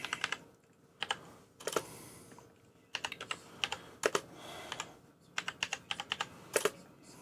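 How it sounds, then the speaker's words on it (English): Typing on a computer keyboard while searching, with bursts of quick, close keystroke clicks separated by short pauses, quiet and with no speech. "Helps if I am actually typing into a search instead of just going up and down."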